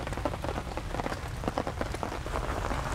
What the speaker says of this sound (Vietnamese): Cảm giác nó nghe tiếng mưa rơi rất là yên tĩnh